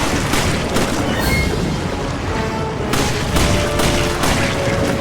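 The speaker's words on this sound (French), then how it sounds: "Allez, Sheva, on tire." Gunfire and booming blasts from the Resident Evil 5 video game, on the main bridge chapter, form a dense, loud, continuous barrage of shots and explosions with no clear pauses.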